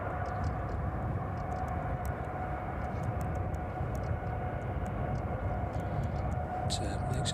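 A Ryanair airliner taxis and departs at East Midlands Airport in the evening, a loud, steady jet engine roar holding throughout, with faint chirps and short clicks above it and a brief burst of noise at the end.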